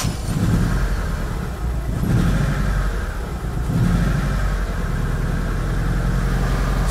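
A car engine misfiring and not running on all four cylinders due to a faulty coil pack, a loud, close, uneven rumble with lumpy surges and dips in power throughout.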